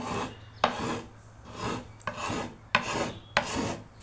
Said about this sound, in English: Easier just to fold it and rub it off with a file.